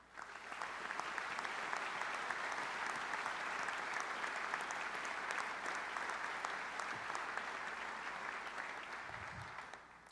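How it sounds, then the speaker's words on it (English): Audience at a National Guard conference gives sustained applause, a dense, even wash of many hands clapping that swells quickly and holds steady for several seconds before tapering off. "I would like you to have a round of applause for all the Gold Star families out there in America today"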